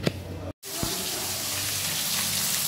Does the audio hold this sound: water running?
yes